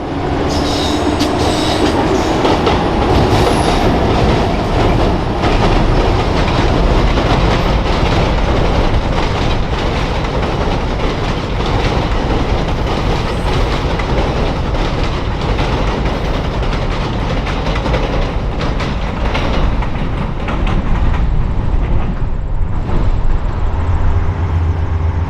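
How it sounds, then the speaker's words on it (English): An outbound EXO commuter train crosses the river near Montreal's Gare Centrale, a loud, steady rumble of wheels and cars rolling past up close, with faint squeals and rhythmic clatter throughout. "One of our final catches is this outbound train crossing the river."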